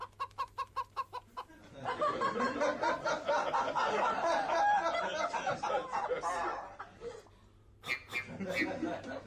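In a theatre show, rapid rhythmic clucking bursts open the clip, then a loud jumble of squawking fowl and chuckling voices, with a few sharp clucks near the end.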